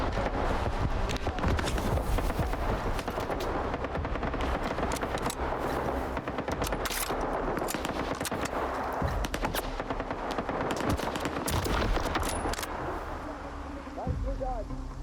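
Bolt-action M1 rifle gunfire in S.T.A.L.K.E.R. 2: Heart of Chornobyl, a string of sharp loud shots cracking over a steady windy outdoor backdrop.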